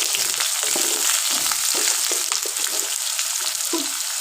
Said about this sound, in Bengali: আলুগুলো এর মধ্যে ভেজে নেব।